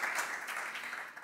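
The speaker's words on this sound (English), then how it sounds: "a round of applause is appropriate at this time" Applause at a seminar on EU forest-based industries, a steady dense wash of clapping filling the hall throughout, moderately loud with no distinct voices over it.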